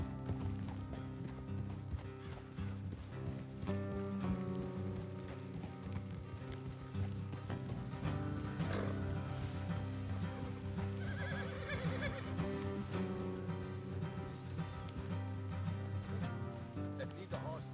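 In a video game, horses whinny and snort over a steady clatter of hooves and creaking tack, with a dense mechanical rattle running throughout.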